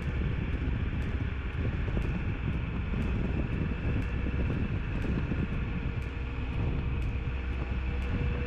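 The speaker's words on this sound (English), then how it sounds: "It is very, very windy." Steady, loud wind roaring across the microphone during a motorcycle ride near San Francisco's Golden Gate, with a constant low rumble, no voices.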